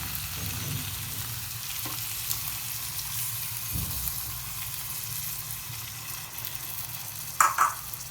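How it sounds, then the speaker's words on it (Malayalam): Thin second-press coconut milk poured into chicken mappas with potatoes simmering in a pan: a steady, faint sizzling hiss runs throughout, with a few soft bubbling pops and a brief splashy burst near the end. "ഇനി നമുക്ക് ഇതിലോട്ട് ഈ തേങ്ങാപ്പാൽ രണ്ടാം പാലൊന്ന് ഒഴിച്ച് കൊടുക്കാം"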